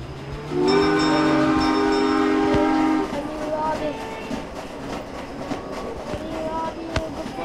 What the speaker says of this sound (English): Oh, the train. No, stop train.